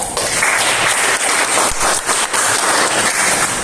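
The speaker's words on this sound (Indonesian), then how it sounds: "Kita juga berikan aplaus yang meriah ya" A classroom audience gives steady, dense applause after a student group finishes its presentation, the clapping loud and continuous throughout with no talking.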